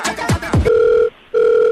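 Phone ringback tone from an outgoing prank call, two long steady electronic tone bursts with a short gap between them, clear and close, after a brief swooping sound.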